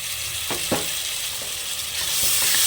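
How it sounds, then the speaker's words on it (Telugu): Ginger, garlic and coconut paste fries in hot oil for a Telugu boti curry, a steady close sizzle with a few sharper crackles and spatters, no voices. "ఇవి బాగా ఫ్రై అయిపోవాలి నూనెలో"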